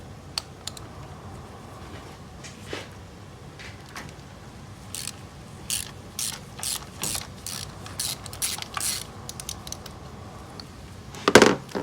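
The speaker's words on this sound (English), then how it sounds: "So 6-inch extension, put my ratchet right on there." A socket ratchet on a 6-inch extension working the spark plugs of an Acura ZDX, quick bursts of close clicking that grow busier toward the end, with a louder metallic clatter at the finish.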